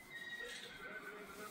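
A horse gives a long, high whinny that rises and trails off, fairly close and clear against a quiet background.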